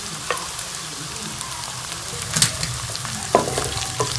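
Onions, garlic and ginger sizzle steadily in hot oil, with occasional stirring scrapes and pops rising above the constant frying hiss, close and moderately loud with no voices.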